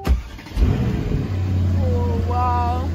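A 2018 Mercedes-AMG E63 S wagon fires up close by, a sharp cranking burst swelling into a loud rev before settling to a deep, steady idle, with people talking over it.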